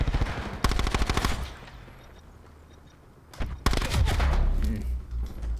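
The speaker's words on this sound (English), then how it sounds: "my gun went off two or three shots" Gunfire in a multiplayer shooter video game: a rapid burst of loud automatic shots, a lull, then another intense burst of fire with impact sounds, close and dominant.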